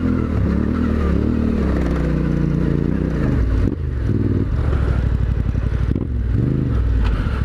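Yamaha Tenere adventure motorcycle on Dunlop D908RR rally tires climbing a hill in second gear, engine loud and close throughout with steady drone, rising revs and clattering of tires over loose ground.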